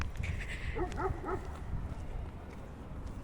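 A dog gives a short burst of a few barks and yips at a moderate distance, rising over a steady low outdoor rumble, with no talking.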